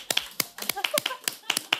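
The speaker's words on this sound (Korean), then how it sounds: "우리 저기 김연아 선수에게 오랜만에 박수를 한번." A handful of scattered, crisp hand claps ring out in a TV talk-show studio in tribute to figure skater Kim Yuna, briefly spaced over speech.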